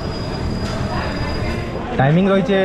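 Sonepur to Bhubaneswar Intercity SF Express train running near Angul and Dhenkanal stations, with a steady rolling rail rumble and a brief squeal of wheels toward the end, while a person talks over it.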